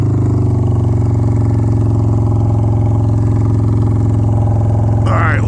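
A Honda Shadow 750 ACE motorcycle with a loud, rejetted exhaust idles high and steady, a deep continuous throbbing rumble held close by throughout, with a brief rustle near the end.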